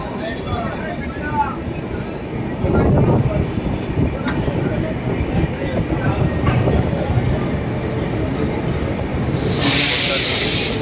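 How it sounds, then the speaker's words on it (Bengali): A train at Kolkata railway station's platform 5 rumbles and clatters steadily, with wheel clicks and a sharp hiss of air at the end, while station crowd noise and voices carry over the top. "চলে এলাম কলকাতা স্টেশন, 5 নম্বর প্ল্যাটফর্মে দিয়েছে।"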